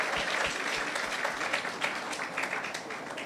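An audience at a polyclinic renaming ceremony in St. George, Barbados applauds the Prime Minister of Barbados, giving steady dense clapping throughout.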